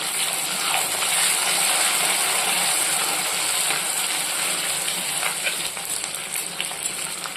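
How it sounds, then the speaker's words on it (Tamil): Green chillies and curry leaves sautéing in hot oil, a loud, dense, continuous sizzle close up with faint stirring, with no one talking. "இப்போது இதில் நாலஞ்சு பச்சை மிளகாய் கூடவே ரெண்டு ரெண்டு கருவேப்பிலை இலைகள் இது ரெண்டையும் சேர்த்து நல்லா வதக்கிடலாம்"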